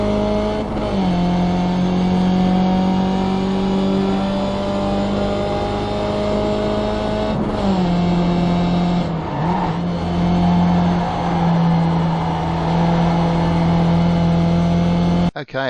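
A race car at Brands Hatch powers up the back straight, its engine loud and close. The tone climbs steadily through the gears, with a brief dip at each change, and keeps droning throughout.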